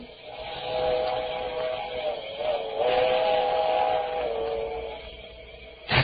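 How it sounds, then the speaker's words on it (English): A midnight train approaches a bridge on a cold night, its whistle sounding as a sustained, multi-tone blast that swells and holds for several seconds, heard from a distance with no talking. "The midnight train. I could see its bright headlight flickering as it approached."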